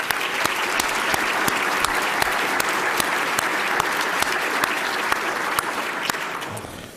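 An audience at a staff and member awards presentation gives the awardees sustained applause, many hands clapping in a dense, loud and steady wash that starts to fade at the very end.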